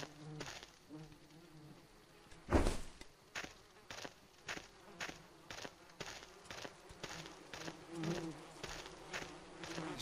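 Flies buzz in the video game Postal 2 (Land of the Dead), a repeated pulsing drone in short bursts over ten seconds with one louder close pass, faint background sounds beneath.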